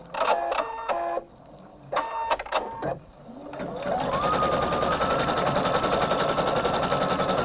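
A Husqvarna Viking embroidery machine stitches a felting design, at first in short separate bursts, then in a fast continuous rhythmic chatter that runs at an even, close, moderately loud level.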